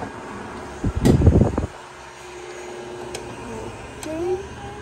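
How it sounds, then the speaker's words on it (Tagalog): An electric fan runs with a low, steady hum after a short burst of louder clattering noise near the start. "Ay, electric fan."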